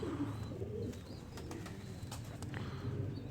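Pigeon cooing from a pigeon pair being shown, soft repeated low coos under steady background hum and noise, with no speech.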